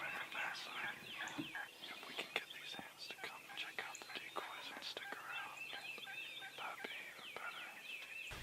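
Turkeys gobbling and calling in a field beyond a stand of trees some 150 to 200 yards away during a hunt, heard as distant repeated calls over soft rustling and whispered voices.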